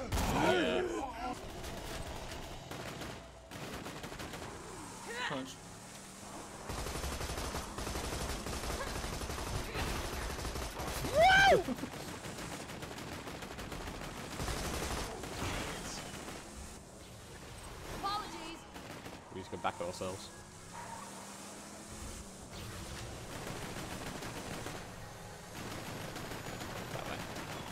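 Gunfire and turret shooting in the Borderlands 2 game, rapid crackling bursts of shots running through the scene at moderate loudness, with several people talking over the shooting throughout.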